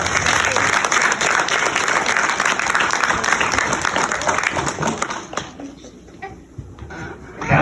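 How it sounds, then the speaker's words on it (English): Audience applause at a wheelchair pageant, dense and steady for about five seconds before thinning out and fading into a few scattered claps and murmurs. "I think we should give Mom a round of applause too."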